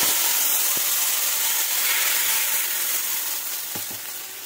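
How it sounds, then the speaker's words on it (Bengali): Ghee sizzles in a pan with a dried red chilli and a bay leaf for tempering, a bright, constant hiss up close with a couple of soft utensil taps near the end, no talk. "এক চামচ মতন ঘি দিয়ে দিলাম, একটা শুকনো লঙ্কা, একটা তেজপাতা ফোড়নে।"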